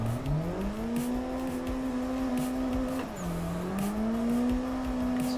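Car drifting in the racing game Assetto Corsa: a steady, loud engine drone holds a high rev pitch, dips briefly around the three-second mark, then climbs back, with faint tire noise throughout and no talking.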